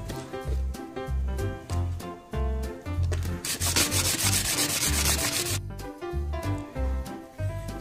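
A Suzuki Raider 150 motorcycle valve shim is ground by hand against a bolt head, giving a close, steady rhythmic scraping repeated stroke after stroke, with a longer continuous rub in the middle.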